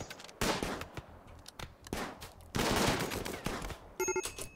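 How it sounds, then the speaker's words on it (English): Bolt action rifles fire in the video game Rimworld, a handful of sharp cracks and bursts in quick succession, loud and close, with no talk over them. "let's use the bolt action rifle"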